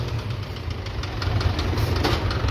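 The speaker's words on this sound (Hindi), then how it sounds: "इधर देख लो ट्रैक्टर को कैसे यहाँ पे चढ़ रहा है" A tractor engine labors uphill hauling a load of gravel, a steady low knocking rumble that grows slightly louder over the stretch with no voices.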